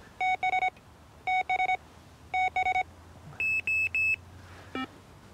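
Electronic fishing bite alarm during a range test, sounding repeated bursts of sharp, bright beeps in quick groups of three or four, evenly spaced, ending with a higher-pitched set and a short final chirp, fairly close with no talk.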